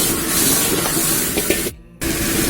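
Yellow catfish sizzling as it fries in smoking hot oil, a loud, dense hiss right up close that cuts out abruptly for a moment before resuming.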